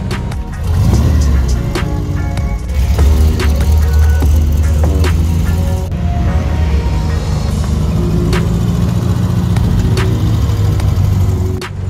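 A classic VW Beetle's small air-cooled engine drones steadily while driving, with loud low rumble, occasional revs and gear changes, and some rattles from the cabin.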